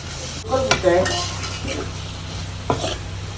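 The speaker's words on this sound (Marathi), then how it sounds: "तर आता कोळंबी आपण छान एकरूप करून घ्यायची कांदा टोमॅटोच्या चटणीत" Prawns being stirred into an onion-tomato masala in a pan, a couple of clattering scrapes of the spoon over a soft sizzle in a quiet kitchen.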